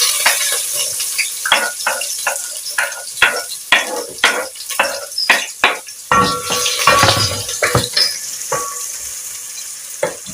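Sliced onions fry in a pan with a bright, crackling sizzle. Bursts of scraping and stirring come in an uneven rhythm over about ten seconds, close and fairly loud, with no voices.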